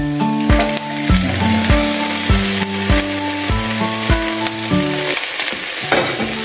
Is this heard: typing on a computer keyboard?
no